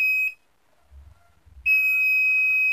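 A multimeter's continuity beep while testing a diode on a Polytron LED TV board: a steady high-pitched tone cuts off, a brief pause with faint low handling noise follows, then the tone resumes and holds.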